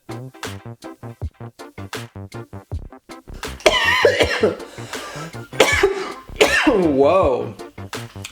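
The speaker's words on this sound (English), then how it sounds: "It's making me cough." Several bursts of coughing and throat clearing from someone caught in chili fumes in a Mexican household kitchen, the coughs coming in clusters between stretches of close, loud speech.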